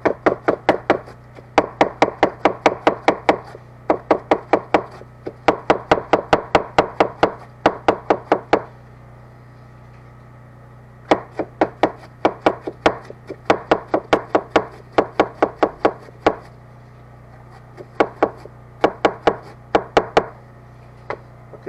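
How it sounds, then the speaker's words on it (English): A knife slicing through a head of cabbage, shredding it for shrimp egg rolls, in long runs of rapid, crisp chopping strokes against a board, broken by short pauses, close and loud. "Okay, now we're going to finally grate some cabbage here."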